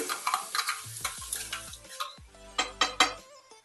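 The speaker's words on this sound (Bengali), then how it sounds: "এবার আমি পেস্ট করা স্ট্রবেরিটা মিশিয়ে দিচ্ছি।" A spoon stirs strawberry paste into cooking halwa, giving repeated close scraping and clinking strokes against the pan with soft squelching between them, fairly loud and without voices.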